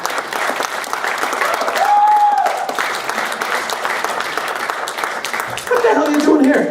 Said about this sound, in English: but clap your hands